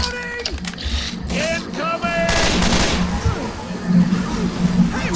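Rapid gunfire bursts from a Left 4 Dead 2 match ring out loud and dense, mixed with game effects and overlapping player voices.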